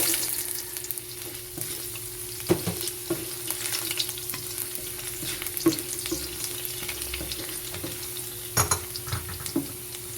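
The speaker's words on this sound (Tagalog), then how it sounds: "So ito pa rin po guys yung oil na ginamit natin kanina sa chicken. So ilalagay na po natin ang ating luya." Ginger hits oil previously used for frying chicken, giving an even, close sizzle with occasional spatula scrapes and taps against the pan, steady throughout and without talking.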